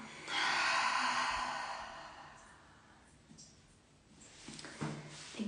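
A long, soft exhale during a guided breathing meditation, starting as a steady airy rush that slowly fades, followed by quieter breaths and faint small movements.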